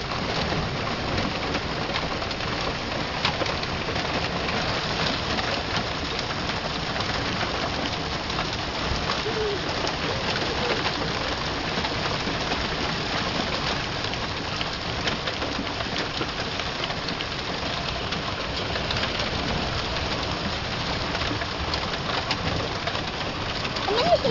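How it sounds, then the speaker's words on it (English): An April hailstorm falls steadily outdoors, a dense continuous patter of hail and rain on surfaces that stays even throughout, with a pigeon-like coo and faint voices in the background. "Here's our April snow, or April hailstorm."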